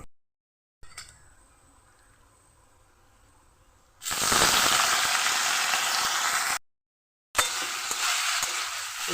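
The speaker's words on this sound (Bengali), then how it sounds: "এবার আমি আলুগুলো দিয়ে আলুটা খুব ভালো করে ভেজে নেব" Potatoes tossed into hot oil tempered with black cumin and dried chili, bursting into a loud, steady sizzle after a quiet stretch of low kitchen noise, then cutting out briefly before sizzling strongly again.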